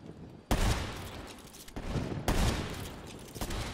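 Gunfire in a 1v1 shooter video game match comes in two loud, dense bursts of rapid shots, each lasting over a second, with quieter reverberant noise between them.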